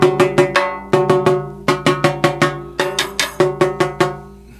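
Tama LST148 14 x 8 inch S.L.P. series metal-shell snare drum struck repeatedly during tuning, bright ringing hits in quick bursts of three or four, close and loud with no talking.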